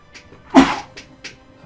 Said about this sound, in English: I'm gonna have to sneeze.